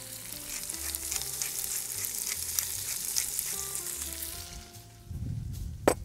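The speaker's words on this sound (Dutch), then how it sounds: "De aardappeltjes goed bakken." Small potatoes frying in a small pan on a barbecue at a campsite. They give a steady close sizzle, with a brief stirring clatter near the end.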